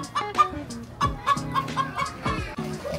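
A group of chickens clucks steadily nearby, with repeated short calls overlapping throughout.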